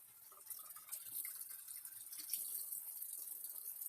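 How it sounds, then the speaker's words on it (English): Hot water runs from a tap while being brought to about 68–75 degrees for developing black-and-white film, a faint, steady hiss and trickle that holds throughout with no talk. "take a few minutes for the hot water to start coming up"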